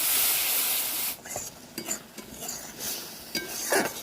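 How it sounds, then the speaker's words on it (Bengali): A ginger, garlic and cumin paste with turmeric, loosened with a little water, is sautéed in a pan, a soft sizzle broken by several scraping stirs of a spatula against the metal. "এগুলো ভালো করে কষিয়ে নেবো সামান্য একটু জল দিয়ে"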